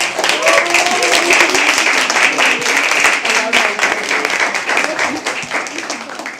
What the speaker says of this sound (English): Can we all clap for them?